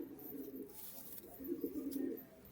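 A Kalpetia Giribaz pigeon gives two soft, low cooing phrases close by, faint and a little rough over a quiet background.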